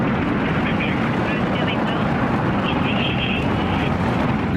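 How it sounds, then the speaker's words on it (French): Soyuz rocket engines and boosters igniting at liftoff make a dense, continuous roar that stays loud and steady throughout, a broad rumbling blast without breaks. "Mise à feu des EAP et décollage du lanceur Soyouz"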